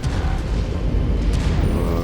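An enemy cannon in MechWarrior 5: Mercenaries fires with a loud, deep boom that rolls on as a heavy low rumble throughout the short moment.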